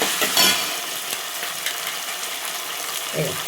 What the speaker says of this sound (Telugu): ఇప్పుడైతే ఉల్లిగడ్డలు వేగుతున్నాయి